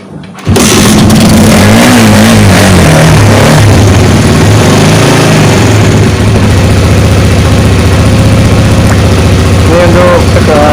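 Old Honda CB150 motorcycle engine started and left running at idle during a charging-system check, a loud, steady low rumble with some uneven revving early on.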